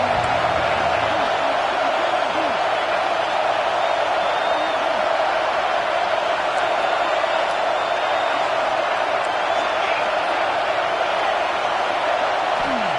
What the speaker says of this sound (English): This crowd knows they have to bring it in big moments